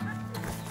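Horse hooves clip-clopping along at a walk on a Wyoming cattle drive, steady and moderately close beneath a constant low hum, with brief faint voices.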